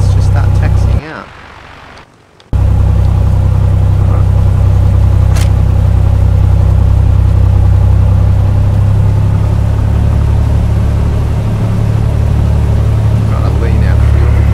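A Cessna 182 Skylane piston engine idles and rumbles steadily while taxiing in a flight simulator, a loud continuous low drone that cuts out briefly near the start before resuming at the same level.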